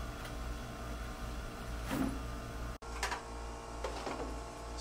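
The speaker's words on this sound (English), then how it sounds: "I've got the aircon running for upstairs" An air conditioner runs upstairs aboard a boat, giving a steady, even mechanical hum with faint tonal whine and a few soft clicks and knocks over it. No one speaks.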